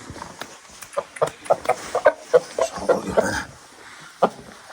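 A young fighting-breed chick clucks in a quick series of short, close pulses, followed by a pause and one last cluck.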